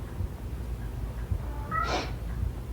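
A single cat meow rises near the end over a constant indoor background hum, close and moderately loud. No one speaks.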